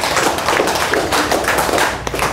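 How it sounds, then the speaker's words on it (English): A class of second-grade children applauds at a career day, a dense burst of quick hand claps filling the room steadily for a couple of seconds. "Let's give a big round of applause."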